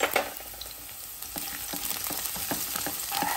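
Crushed ginger and green chillies sauté in hot oil in a pan, a steady close sizzle broken by the scrape and tap of a spoon stirring, with no voices.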